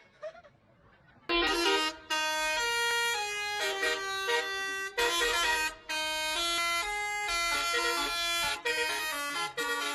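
A bus telolet horn plays a bright, loud melody of stacked, sustained tones, shifting from note to note in bursts with short breaks, in an outdoor parking lot at a tourist spot.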